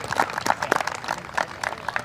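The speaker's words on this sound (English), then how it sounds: "Please give another round of applause for these 6 well-deserving seniors and their parents" A crowd applauding senior boys' soccer players and their parents at a school event: dense, steady clapping from many hands that continues through the whole stretch.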